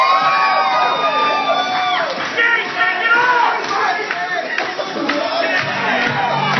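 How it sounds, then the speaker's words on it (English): A convention crowd at a gaming event cheers, whoops and shouts loudly during an on-stage dance-off, with steady crowd noise that sounds close and continuous. "She's getting more applause than me."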